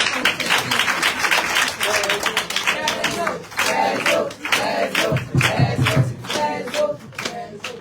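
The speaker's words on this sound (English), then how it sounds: "Now we clap more, now we clap." A crowd at a Sierra Leone women's leaders' forum claps together in rapid bursts, mixed with shouting voices and cheering, lively and close throughout.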